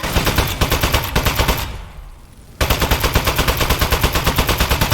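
Rapid automatic gunfire from a desk-mounted gun in Aperture Desk Job, loud and close in a steady fast rhythm. The shooting breaks off for about a second and then resumes at the same pace.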